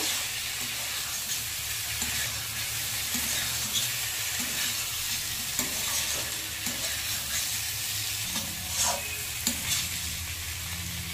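Spice masala for a hilsa curry with vegetables fries in oil, a continuous close sizzle with intermittent scraping and stirring strokes of a spoon against the pan, no one speaking.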